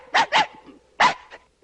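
Dogs bark in a film scene: a quick pair of sharp, close barks, then another loud bark and a softer follow-up yip, with no talking.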